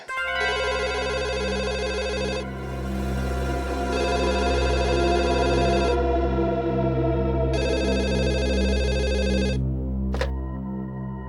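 A telephone rings in three long electronic trilling bursts with short gaps between them, loud and close, over a steady low hum.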